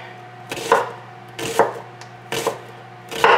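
A knife slices an onion into half moons on a cutting board, giving four distinct, close chopping strokes spaced about a second apart against a quiet background hum.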